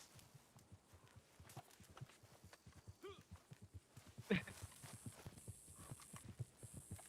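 A horse arrives in the Red Dead Redemption 2 Online game, its hooves beating a steady clip-clop rhythm at walking pace, with a short whinny partway through and quiet voices in the background.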